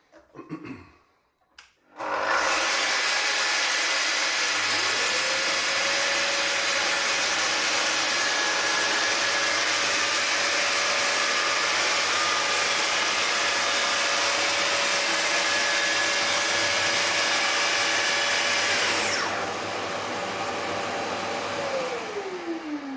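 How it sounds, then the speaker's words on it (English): A power saw spins up and runs steadily for nearly twenty seconds, first dragged backwards along wood to score a curved line, then with the blade dropped for the proper cut, its loud whine holding level before winding down. "we're going to switch the saw on and just run it all the way backwards to make a curve cut"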